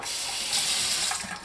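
A tap runs steadily into a sink to wet a stained shirt, a continuous close splashing hiss with slight shifts in the flow and no talking.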